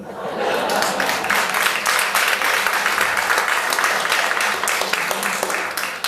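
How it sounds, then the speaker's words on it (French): An audience claps at a comedic musical performance, the applause rising quickly and staying dense, with a little laughter and murmuring mixed in. "Faut pas vous gêner pour applaudir, hein."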